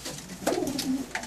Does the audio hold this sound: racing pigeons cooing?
yes